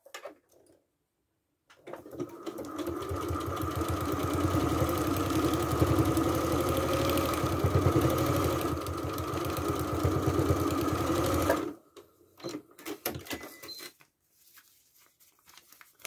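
A sewing machine stitching a foundation paper pieced block at small stitch length, a steady close whirring run of about ten seconds with rapid needle pulses, starting and stopping abruptly amid quiet handling sounds.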